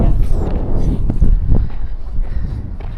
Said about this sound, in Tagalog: Tapos malakas ang hangin.